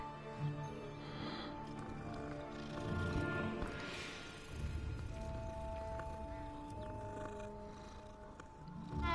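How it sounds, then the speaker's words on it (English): A cat in the video game Hogwarts Legacy gives soft game-animal sounds, a brief purring rumble and a higher cry, over quiet ambient music and faint environmental noise. "Hey, kitty."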